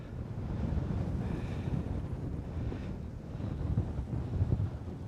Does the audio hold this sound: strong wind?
yes